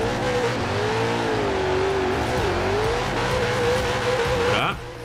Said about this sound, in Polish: Taki, ja wiem, bardziej power slide niż drift, ale takie ciasne zakręty, on ma strasznie krótkie te biegi,